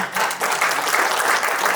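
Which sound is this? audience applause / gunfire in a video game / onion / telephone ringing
audience applause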